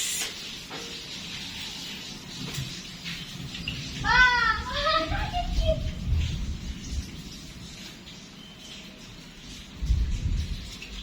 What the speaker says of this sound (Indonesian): Akibat hujan deras.